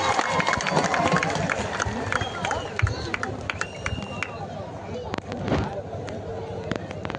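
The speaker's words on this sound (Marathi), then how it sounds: "जरा टाळा करावी टाळ्या टाळ्या टाळ्या टाळ्या" A crowd at an outdoor kushti wrestling bout between Maharashtra Kesari and Bharat Kesari wrestlers claps in dense, sustained applause, with voices and an announcer heard over it.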